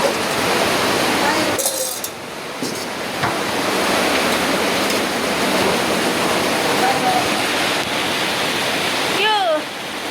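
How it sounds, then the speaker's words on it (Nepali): Heavy rain roars steadily on a worn tin roof as water leaks through inside, a loud continuous wash with a few faint chirps near the end. "ला पानी चुइँदो रहेछ नि।"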